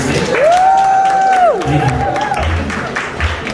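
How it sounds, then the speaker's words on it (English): A jazz club crowd at a poetry night applauds and cheers, clapping dense and steady while a long whistle-like whoop rises and falls across the first half. "could y'all give him a round of applause?"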